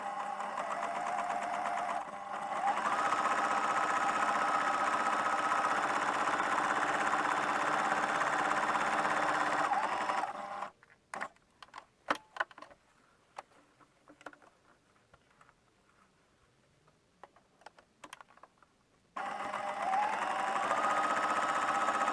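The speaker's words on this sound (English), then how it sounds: "I'm going to stitch 1/4 inch from this side of the line, turn it round and sew back 1/4 inch on this side." Sewing machine stitching quilt half-square triangles, running in two long loud continuous bursts with a quieter stretch of light handling clicks between them.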